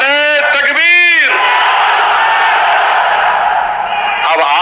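At a packed protest rally at Darussalam in Hyderabad against the Waqf amendment, a leader shouts the Takbir slogan twice and a huge crowd answers with a loud, sustained roar that swells and holds.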